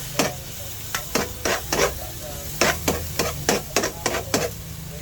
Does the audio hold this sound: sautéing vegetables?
yes